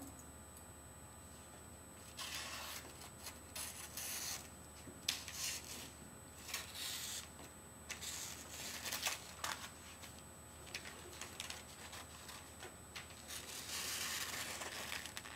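Quiet, close crisp snipping and rustling of paper, irregular cuts coming in short bursts, with no talking.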